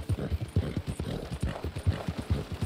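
Horse hooves clip-clop in a steady, brisk rhythm from a ridden horse in the Western video game Red Dead Redemption II, fairly close and prominent, with faint low game ambience beneath.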